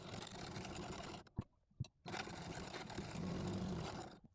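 A sewing machine stitches the lining of a blouse in a loud, continuous whirring run that stops briefly twice before resuming and then steadies, all close by and without speech.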